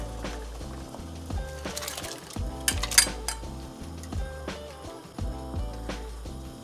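Shell-on shrimp dropped into a pot of boiling water, with clinks of a metal pot and utensil, a burst of splashing and bubbling near the middle, then softer stirring and clatter, close up.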